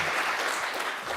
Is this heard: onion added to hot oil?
no